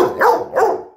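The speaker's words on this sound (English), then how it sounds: "You are the silliest dog." A dog barks twice in quick succession, two loud close woofs about a third of a second apart, with no talk over them.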